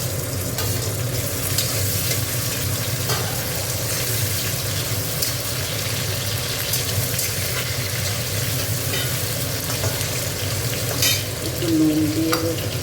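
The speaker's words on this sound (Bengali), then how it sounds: "মেখে দিয়েছি, তাই এবার একটু ভেজে দিচ্ছি।" Marinated chicken frying in a pan with gondhoraj lemon leaves, a continuous loud sizzle close up, broken by steady stirring scrapes and occasional knocks of the spoon.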